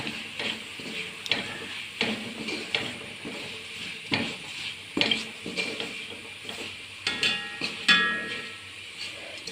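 Coriander powder, chilli powder and masala are stirred together in a pan for kappa biriyani, with soft scraping and clinks against the pan plus a faint sizzle, close by and without speech.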